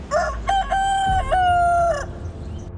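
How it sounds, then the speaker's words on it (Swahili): One rooster crows loudly and close by, a single cock-a-doodle-doo made of short rising notes and a long sustained final note, with a little low rumble underneath. "Nguvu ya jogoo kuwika ni miujiza tosha."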